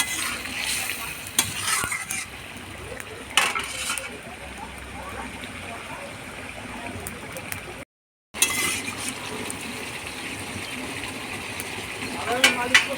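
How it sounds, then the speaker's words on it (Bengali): Drumstick, potato and bitter gourd chorchori simmers in a pan with a continuous close sizzling bubble, occasional utensil knocks, and one brief silent gap. "এবার 1 মিনিট মতন ফুটিয়ে নামিয়ে নেব।"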